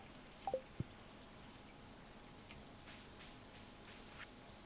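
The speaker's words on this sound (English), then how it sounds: "It's raining! Hooray!" Rain falling in Stardew Valley, a steady soft hiss of drops spread evenly throughout, quiet and continuous, with a few brief clicks near the start.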